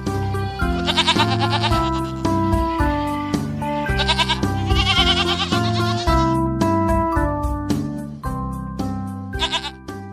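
Repeated wavering goat bleats ring out over a bright, loud backing of a children's alphabet song.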